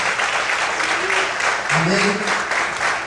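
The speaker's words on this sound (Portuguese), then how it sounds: "Quantos podem aplaudir a Deus nessa manhã?" Church congregation applauding together during a morning worship service, a dense steady wash of clapping lasting the whole moment with a few voices calling out underneath.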